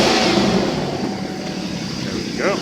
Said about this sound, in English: And now we'll rev the truck up and you'll hear it